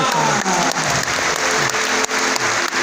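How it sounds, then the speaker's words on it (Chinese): A crowd claps steadily and continuously at a large anniversary gathering in Taichung, dense applause filling the room at an even level throughout. "掌声鼓励"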